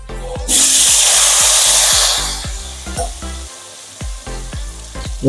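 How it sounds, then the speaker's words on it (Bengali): Potatoes are poured into hot oil and burst into a loud, close, hissing sizzle that softens after a couple of seconds, with repeated rhythmic knocks of a spoon or pan running underneath. "এখানে হচ্ছে তেলটা গরম, এরপরে এর মধ্যে এই আলুগুলো সব ঢেলে দেবো"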